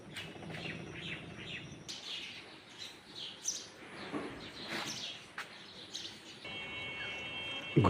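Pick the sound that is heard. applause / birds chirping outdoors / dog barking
birds chirping outdoors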